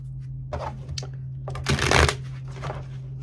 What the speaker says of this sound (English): She is a fine deck of cards.